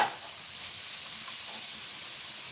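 Cabbage added to a hot pan, sizzling with a steady bright hiss after a brief initial burst, close and continuous with no talking.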